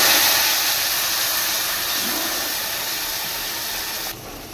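Ground mustard and poppy seed paste hitting hot oil tempered with nigella seeds for a Bengali pabda fish curry, a loud, steady hiss close by that fades slightly and drops off sharply near the end.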